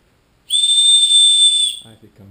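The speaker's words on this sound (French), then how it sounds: "Et le merveilleux sifflet." Whistle from an Oléa survival bracelet, a single loud, piercing steady blast lasting over a second, close up, followed by brief speech.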